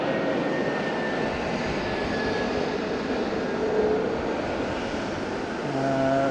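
A Hong Kong Express jet airliner at Fukuoka Airport, a loud continuous engine roar with faint whining tones, steady and close for the whole stretch.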